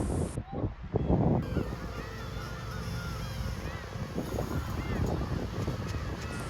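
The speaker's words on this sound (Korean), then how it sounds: "갈매기들이 모여있는 것을 보니" Seagulls call repeatedly over steady seaside wind and surf on a coastal walking trail between Sampo Beach in Goseong and Jangsa Harbor near Sokcho, the cries distant and scattered across the wash of noise.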